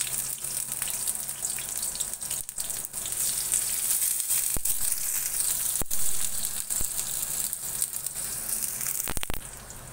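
Chopped onion sizzles and crackles in hot oil in a wok, a loud steady frying hiss that runs the whole time, with occasional sharp clicks of stirring and no voices.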